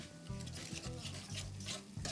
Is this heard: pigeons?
no